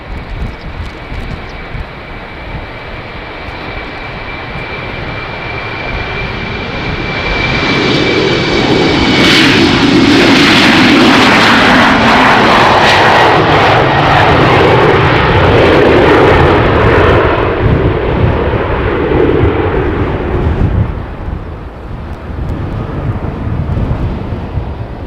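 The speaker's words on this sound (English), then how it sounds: "the Embraer has its lights on, so this one will take off first." An Embraer jet taking off at Amsterdam Schiphol, its engine roar swelling from a distant whine to a loud, rushing peak in the middle before fading, with some wind buffeting.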